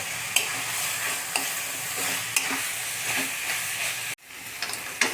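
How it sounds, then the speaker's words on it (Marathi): Chicken pieces fry on high heat with turmeric in a home kitchen, a steady close sizzle and hiss with a few sharp stirring scrapes spaced about a second apart and a brief dropout near the end, with no talk. "बरोबर 5 मिनटापासून मी त्याला मोठ्या आचेवर फ्राय करतोय"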